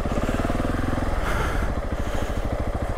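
Gas Gas ES700 enduro motorcycle ridden off-road through rutted grass, its single-cylinder engine thudding in a steady fast pulse, close and loud throughout with a slight surge in the middle.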